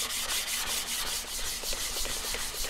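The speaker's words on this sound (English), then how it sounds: "This is the lapping plate that you use to keep it flat." A lapping plate rubbed back and forth across a 16,000 grit Shapton ceramic sharpening stone, giving a steady, close, gritty scraping with a quick repeating stroke rhythm and no talking.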